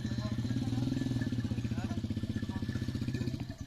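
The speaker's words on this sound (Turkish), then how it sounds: "burada çobanlık motorla yapılıyor." A motorcycle used for herding goats runs nearby with a steady, throbbing putter and a slight clatter, holding an even beat throughout at moderate volume.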